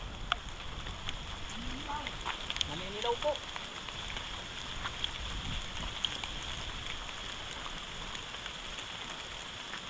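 Rain falling steadily outdoors, a soft continuous patter with scattered drops, lasting throughout while a person speaks briefly over it.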